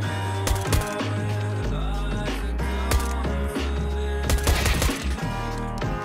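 Rapid gunfire bursts from a Counter-Strike style team shooter, repeated sharp cracks over a loud, dense game soundtrack with steady low rumble throughout.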